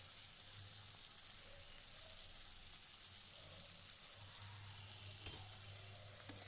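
Dried fish and spices sauté in a pan with a steady, even sizzle and faint stirring scrapes, one brief clatter near the end, no voices.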